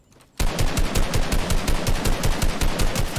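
Fortnite combat: after a brief quiet moment, loud sustained automatic gunfire erupts and rattles on in fast, evenly spaced shots to the end.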